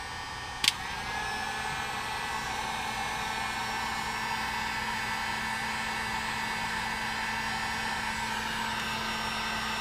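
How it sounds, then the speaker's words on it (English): A hair dryer runs with a steady, loud whooshing hum throughout, starting with a brief click. "super duper hair dryer here, and go ahead and throw that on"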